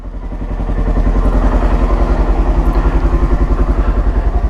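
A Honda CRF 125 F dirt bike engine runs close by, loud and steady, its thumping single-cylinder pulse building quickly and then holding an even, rapid rhythm.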